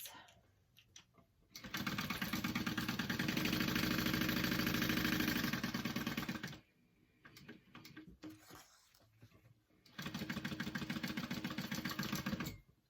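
A sewing machine stitches a backpack seam in two runs of rapid, even mechanical whirring, separated by a pause with light handling noise.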